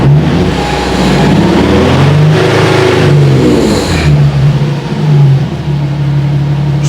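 A Nissan 370z, lowered on front BC Racing coilovers after an idle fix, revs up close by, holds, then drops back to a smooth, steady idle, with no talking over the engine.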